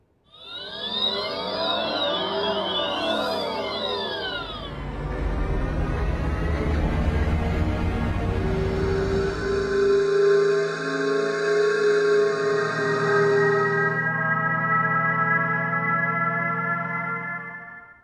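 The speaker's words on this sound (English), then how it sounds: "Are you familiar with the acoustic alert for pedestrians?" A sequence of synthetic tones plays: sweeping, warbling electronic sounds, a low humming drone, then sustained layered hums, each changing character every few seconds.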